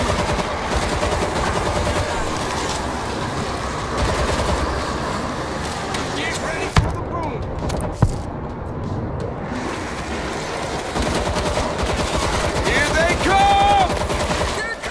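Sustained automatic gunfire mows down zombies in the World War Z video game, rapid bursts running nearly throughout with a couple of sharp single shots, under frantic game noise and shouted voices.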